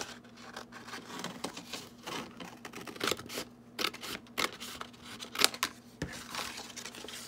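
Scissors cutting through a paper bag give faint, irregular snips and crinkles of paper close by, with no one talking.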